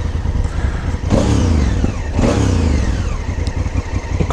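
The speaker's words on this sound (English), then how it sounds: "Start the bike, push it down." The 2016 Honda CRF1000L Africa Twin's engine runs close and loud, rising in two revs that swell and fall back to a steady, throbbing idle, with no talking.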